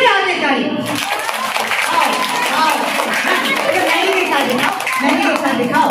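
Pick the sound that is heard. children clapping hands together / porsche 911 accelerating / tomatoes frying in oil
children clapping hands together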